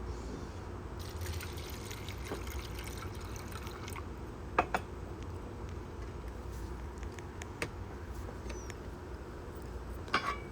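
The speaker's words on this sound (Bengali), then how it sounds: "এখন পানি দিয়ে বসাই দেব।" Water trickles and drips into a pot of lentils for a thin dal, a steady faint pour with a few louder splashes, heard alone without talk.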